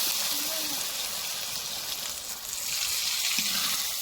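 Water poured into a pan of spicy fish curry, a steady hiss and splash filling the clip close up, with voices talking over it.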